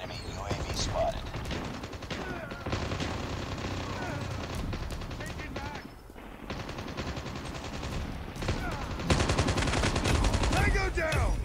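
Sustained AK117 automatic rifle fire in Call of Duty Mobile, long loud bursts with a brief pause midway, mixed with game effects and someone talking throughout.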